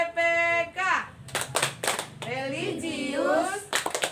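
Children at school doing the Tepuk PPK clap chant, a few sharp group claps cutting between sung and chanted children's voices.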